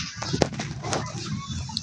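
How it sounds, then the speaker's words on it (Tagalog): A few chickens clucking nearby in short, irregular bursts over a quiet background. "Diyan na naman yung mga manok ni kuya."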